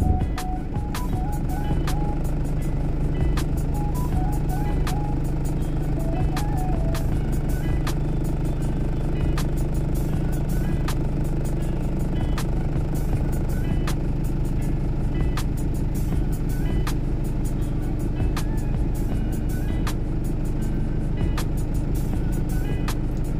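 A heavy truck drives along a rough, poorly kept road in Brazil, its engine droning steadily with rattles and sharp knocks from bouncing over bumps, while a repeating high beeping tone sounds in the first seconds.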